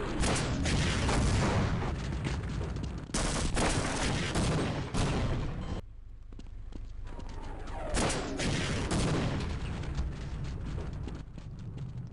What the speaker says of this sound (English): a rocket launcher blast